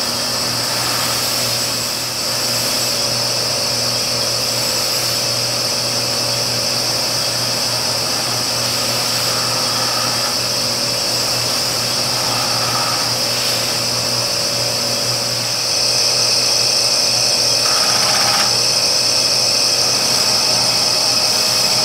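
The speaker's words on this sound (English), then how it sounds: "Put a nice polish on the whole thing. Use a little different compound and whatnot for the steel parts." Power buffer spinning a buffing wheel while a knife's steel and handle are polished with compound, a steady continuous high whine running alone throughout, slightly louder near the end.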